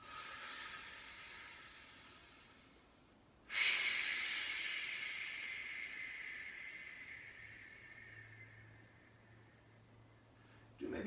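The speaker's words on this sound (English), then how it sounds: "First is what I call vigorous breathing technique." Forceful yogic breaths during a gentle yoga session for legs and hips: a long airy exhale, then a sudden loud inhale-like rush that slowly fades, breathy and close, with no talking.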